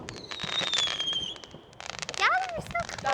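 Fireworks going off on Bonfire Night: a dense run of crackling bangs with whistling and screeching rockets rising and falling, fairly close, and voices exclaim over them.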